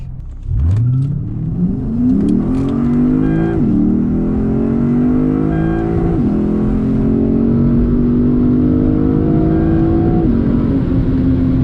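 A 2010 Lexus IS-F engine revs hard and climbs through several quick gear shifts, each upshift briefly dropping the pitch before it rises again, loud and close.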